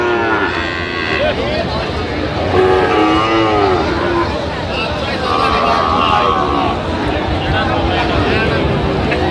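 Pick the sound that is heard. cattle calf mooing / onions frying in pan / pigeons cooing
cattle calf mooing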